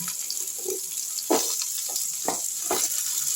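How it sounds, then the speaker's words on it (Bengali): Cut potato pieces sizzling in hot oil with onions for a fish chorchori, a steady frying hiss with a few louder crackles and stirring sounds, close and without speech. "আলুগুলোকেও আমি একটু ভেজে নিচ্ছি"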